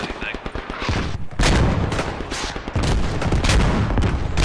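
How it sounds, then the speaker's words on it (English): Heavy World War I battle din from Beyond the Wire, with loud booming blasts and rapid rifle and machine-gun fire crowding together, and surges of low rumble that fill the scene. "this artillery's gonna light me up"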